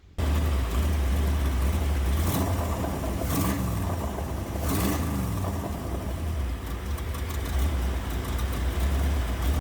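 A car engine idles steadily with zero oil pressure, a loud, close mid-pitched drone holding for nearly ten seconds, with a few brief rattling bursts along the way.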